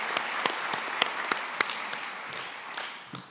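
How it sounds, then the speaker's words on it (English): A small crowd at a university diploma ceremony applauds, sharp claps pattering unevenly for a few seconds before thinning out. "we can applaud that as well"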